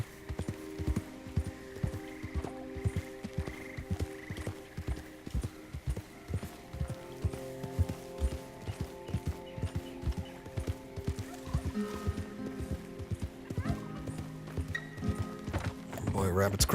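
Horse hooves clip-clop in a steady rhythm with an occasional whinny while riding through Red Dead Redemption II, moderately loud beneath game music and someone talking.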